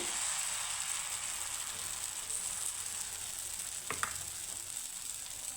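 Flour batter sizzles steadily in a frying pan, a continuous soft hiss with a brief utensil tap near the end and no talking.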